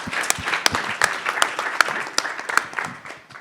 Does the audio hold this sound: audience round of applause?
yes